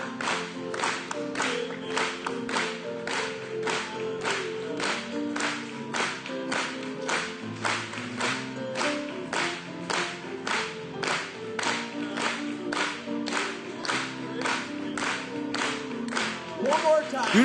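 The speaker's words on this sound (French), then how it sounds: "Acclamons pour lui." A church congregation at a French-language service claps in a steady, even rhythm, a long run of sharp, regular hand claps under faint singing or music.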